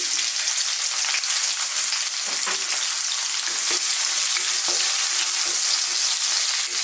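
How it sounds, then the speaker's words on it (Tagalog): Onion, garlic and ginger sauté together with minced beef in a hot pan, giving a steady, loud broadband sizzle throughout with faint scraping stirs now and then and no voices. "Nagigisa lang po tayo"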